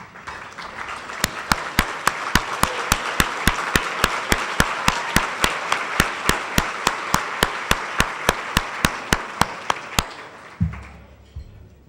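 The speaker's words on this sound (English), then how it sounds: "please stand so we can give you a well-deserved round of applause" Past winners at the 2017 Small Business of the Year Awards are applauded: a bed of crowd clapping punctuated by sharp, evenly spaced loud claps in a steady rhythm, ending abruptly with a brief low thump.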